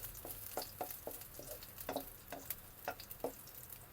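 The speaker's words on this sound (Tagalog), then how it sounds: "kapag golden brown na yung bawang, susunod ko na tong sibuyas." Garlic frying in a pan for adobong balut makes a faint, steady sizzle with scattered soft pops and ticks, heard from a short distance.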